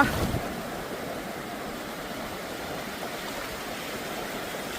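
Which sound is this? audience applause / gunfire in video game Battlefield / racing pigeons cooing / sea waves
sea waves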